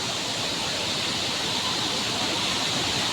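Sawdav waterfall in the Konkan region roars as a steady, dense wash of falling water, loud and continuous throughout with no breaks.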